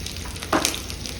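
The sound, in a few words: urad dal and mustard seeds sizzling in hot oil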